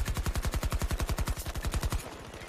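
Rapid automatic gunfire in the shooter game Battlefield 2042's Hazard Zone mode, a loud, steady burst of evenly spaced shots lasting about two seconds before cutting off.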